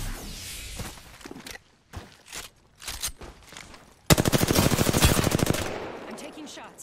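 Close automatic gunfire in Apex Legends, scattered bursts and movement sounds in the first half, then a loud sustained rapid-fire stream of evenly spaced shots for about two seconds before tapering off.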